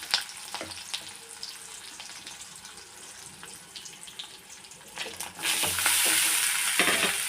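Cooked, cooled rice tipped into a pan of fried cumin seeds and curry leaves, with soft scraping and stirring over a steady sizzle that swells louder toward the end; no one speaks.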